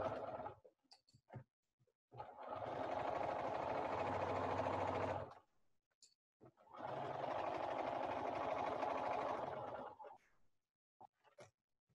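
A sewing machine stitches a scant quarter-inch seam around a fabric piece in two steady motor runs of about three seconds each, separated by a short pause, with small handling clicks between them.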